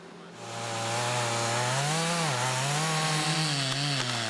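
Chainsaw felling timber on a steep logging slope, a distant engine revving up and holding a loud, wavering whine as it cuts.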